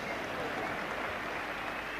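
Cricket crowd at a 1985 Ashes Test applauding Ian Botham's fifth wicket of the innings, a steady, dense wash of clapping ringing around the ground with no break.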